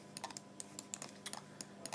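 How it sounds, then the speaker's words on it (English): Quick, light taps on a computer keyboard, around twenty irregular key presses over two seconds, faint and close, with no voices. "I want to press 3 on my keyboard to smooth preview it"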